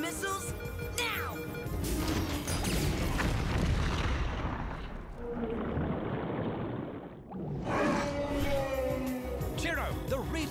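Mega missiles fire and explode in a robot monkey team cartoon battle against a giant squid, heavy booming blasts and a loud rumbling roar filling the scene, briefly dipping before another burst of crashing explosions.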